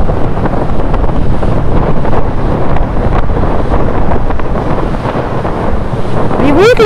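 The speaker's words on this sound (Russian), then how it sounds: "Ветер сильнейший." Strong storm wind roars and buffets the microphone continuously at Cape Tarkhankut, Crimea, with a rumbling, surf-like wash of stormy sea underneath throughout.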